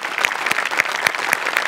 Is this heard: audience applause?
yes